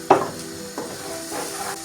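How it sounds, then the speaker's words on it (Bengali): Rice and vegetables stir-fried in a pan for fried rice give a sizzling hiss, with a sharp scrape of the spatula at the start and another softer stir shortly after, close and alone. "সব কিছুটা হালকা ভেজে নিব। আর এখানে ভাতটা বসাইছি"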